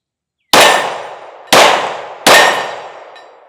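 Three sharp pistol shots from a Smith and Wesson M&P Carry Comp, each ringing off steel targets at about 15 yards, spaced roughly a second apart with long decaying metallic clangs and no talking.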